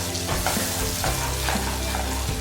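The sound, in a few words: stirring a spice masala mixture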